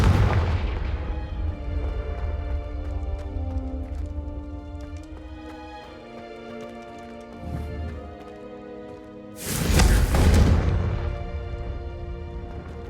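Confringo, a fire spell in the Hogwarts Legacy video game, goes off as a loud, booming blast near the end, following a long rumbling, tonal stretch of game sound and music.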